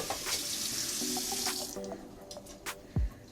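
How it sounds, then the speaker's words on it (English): Warm tap water pours steadily from a faucet into a sink for rinsing an aquarium protein skimmer cup, with a hissing splash that later thins into drips and small clatters. "Just some warm tap water or hot tap water."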